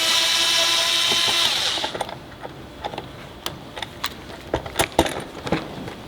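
Power tool whirring on seat bolts of a Yamaha R7 motorcycle for about two seconds, then stopping, followed by scattered light clicks and taps of bolts and metal parts being handled nearby.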